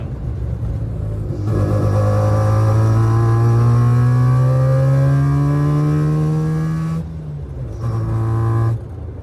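A Mazda RX2 with a carburetor problem accelerates, its engine note rising steadily and loudly over several seconds, then dipping briefly before revving up again, with no talk over it.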